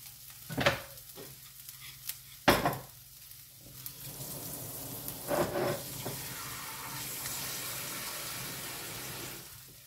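An oat bran galette cooks plainly in a frying pan, with a steady soft sizzle running under several louder scraping and stirring clatters near the start and middle.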